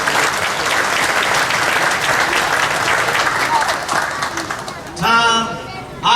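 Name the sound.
audience applause at a festival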